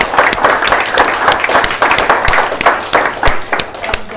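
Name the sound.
seminar audience applause for buyers agents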